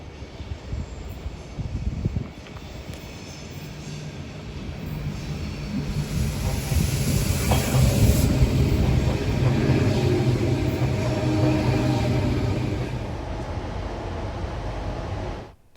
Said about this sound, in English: my direct train to North Sydney is currently on the Up Illawarra Local Line as it approaches Wolli Creek Station